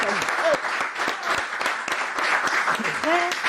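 Audience applause at a French-language television event honouring an entertainment executive, steady dense clapping throughout with voices and cheers rising over it and brief whoops near the start and end.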